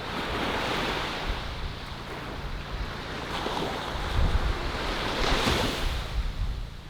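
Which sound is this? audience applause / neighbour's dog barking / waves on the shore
waves on the shore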